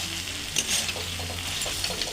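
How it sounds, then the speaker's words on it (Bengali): Soybean chunks stir-fry with spices in a pan, a steady close sizzle broken by scraping stirs of a spatula. "সোয়াবিন দিয়ে ভালো করে মিশিয়ে আস্তে আস্তে একটু কষা কষা করে নেব"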